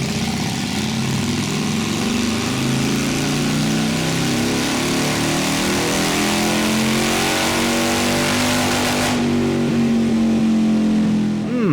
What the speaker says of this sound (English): So let's go ahead and find out how vast the difference in power is by putting these bikes on the dyno.